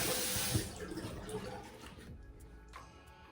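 Tap water runs steadily into a cupped hand to mix a facial cleanser during a morning skincare routine for acne-prone skin, a close, continuous splashing flow that eases off and fades near the end.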